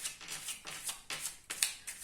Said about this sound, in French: Je vais essayer de mélanger plus aisément les cartes.